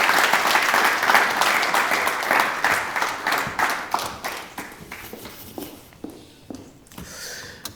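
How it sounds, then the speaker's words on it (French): Audience applause in a café-theatre show, a dense burst of clapping that thins into scattered, separate claps near the end. "Applaudissements pour Mademoiselle Yelbi."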